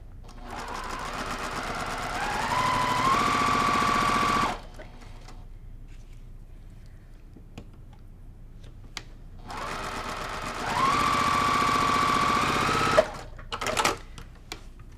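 A Juki sewing machine stitches a quilt block seam in two close, loud bursts of about four seconds each, with a quiet pause between them and small handling clicks after.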